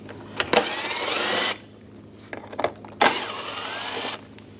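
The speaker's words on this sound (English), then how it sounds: "I'm going to take these two screws out up top." A power tool with a T30 socket backs out headlight screws on a 2010-2014 Volkswagen GTI, two close, loud whirring bursts of about a second each separated by quieter clicks and handling.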